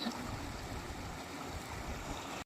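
Water from a Narmada canal scheme rushes steadily in a constant broadband wash, close and fairly loud, with no voices.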